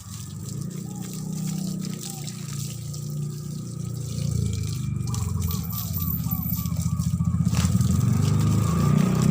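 Water is poured onto a newly planted durian tree outdoors, a steady splashing and gurgling flow that grows fuller over several seconds, with someone talking faintly in the background.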